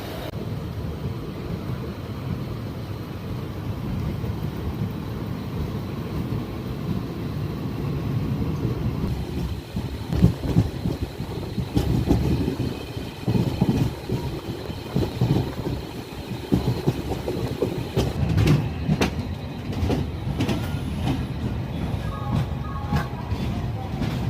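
The Mahal Express passenger train runs along the rails near Chidambaram, a continuous rumbling roll heard from inside with rhythmic clickety-clack and rattling that grows busier midway, steady and fairly loud throughout.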